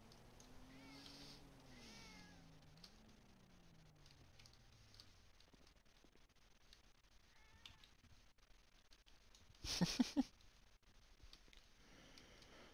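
A cat meows in a GTA roleplay game at a police station, giving a few faint, drawn-out wavering cries early on over quiet background, followed later by a brief, louder burst of noise.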